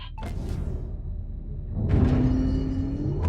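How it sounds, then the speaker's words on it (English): A ship's reactor powering up in the space game Void Crew: a low rumbling hum with a soft whoosh swells and a rising tonal drone builds steadily, close and moderately loud. "Now power the ship's reactor."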